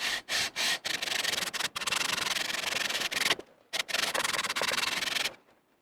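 Kohler engine block from an eXmark mower being resurfaced by hand on sandpaper: a loud, close, steady scraping rub in long strokes, with a few short pauses and a brief break near the end.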